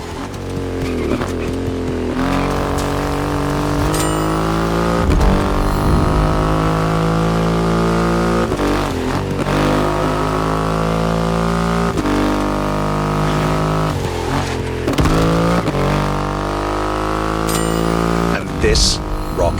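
A Triumph Rocket 3 motorcycle with a 2.5-litre engine in the racing game The Crew Motorfest growls loudly, revving up repeatedly through rising gear pulls with brief drops between shifts, while a voice talks over parts.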